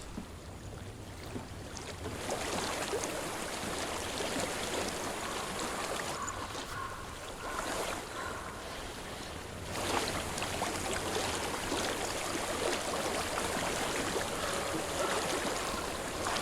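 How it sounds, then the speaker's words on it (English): A flowing stream rushes in the game Hellblade: Senua's Sacrifice, a steady broadband wash of water that is fairly close and continuous throughout, with a few brief dips and no speech over it. "I hear water."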